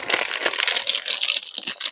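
A plastic packet from a Na Na Na Surprise Kitty Ketwood doll crinkles close up as it is opened, giving rapid, bright rustling bursts in an irregular rhythm with no talking.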